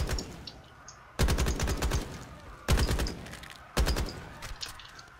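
Burst-fire gun shots from Call of Duty Black Ops come in three sharp, loud rapid bursts spaced about a second apart, each trailing off into quieter game background.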